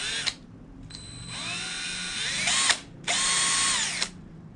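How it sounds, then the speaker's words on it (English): A power drill boring holes into a guitar pedal enclosure, whining in two long sustained bursts, each rising in pitch as the motor spins up and then cutting off abruptly, loud and close. "I've not used this drill before,"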